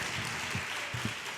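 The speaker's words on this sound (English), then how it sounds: "Can we give an applause to Ned?" An audience at a retail e-commerce boot camp showcase gives a short burst of applause, fairly faint and distant, with scattered claps and a faint voice underneath.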